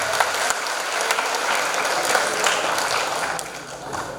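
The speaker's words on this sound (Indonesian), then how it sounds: "Tepuk tangan untuk kita semua." Steady applause from a school audience fills a hall at SMA Negeri 1 Talun during a national-awareness event, a dense patter of many hands at moderate loudness that holds for several seconds and thins slightly near the end.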